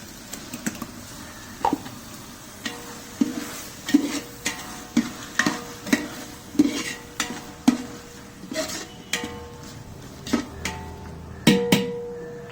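Tomatoes fry in a large pot of masala for a 2 kg mutton or beef dum biryani, with a low sizzle beneath a long run of regular metallic spoon knocks and scrapes, roughly one every second.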